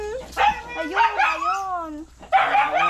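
A dog yips and whines with a few short barks during a bath outdoors after washing a motorbike, close by and mixed with a person talking to it.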